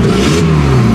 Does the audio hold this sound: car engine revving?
yes